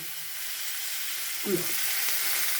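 Okra frying in coconut oil in a pan gives a constant loud, bright sizzle, with a brief low clatter about halfway through, and no one speaks.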